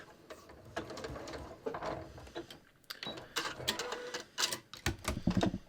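A sewing machine back tacks while stitching an invisible zipper, with bursts of rapid close mechanical clattering that stop, restart and reverse in short runs.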